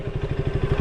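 A motorcycle engine runs close by at a city palace entrance, a steady low throbbing with rapid rhythmic pulses, loud and alone.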